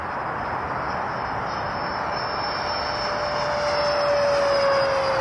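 A JHH A-7 Corsair RC scale model jet flies at a practice field, its turbine making a steady, loud whine and rush that rises slightly in pitch and volume as throttle is added in a turn. No voice is heard.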